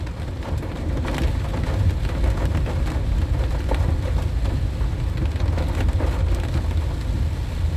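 Heavy tropical rain pours down steadily on a road, a loud continuous hiss of drops hitting the surface with no voices.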